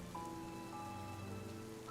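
Rain falling steadily in a misty outdoor setting, a soft, even patter on surfaces that continues without pause, faint and distant, with no voices.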